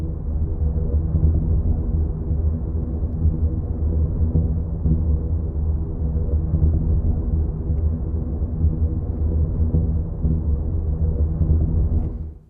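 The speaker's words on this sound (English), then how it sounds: "So this is the sound of the singing ringing tree." The Singing Ringing Tree, a sculpture of steel pipes sounded by wind, gives a steady low humming drone with a throbbing texture. It holds evenly for about twelve seconds, then cuts off, with no voices.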